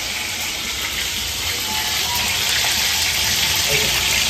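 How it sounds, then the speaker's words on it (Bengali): Small hilsa fish frying in oil in a wok, giving a loud, steady, close hiss that holds without pause throughout. "মাছগুলো আমার ভাজা হয়ে গেছে মোটামুটি"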